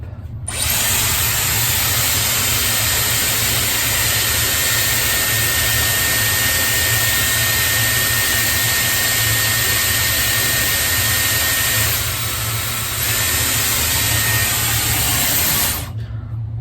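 Dyson Airwrap hair styler blowing air on its cold shot setting, a loud, steady whooshing hiss with a constant high whine, switching on and off cleanly at the start and end.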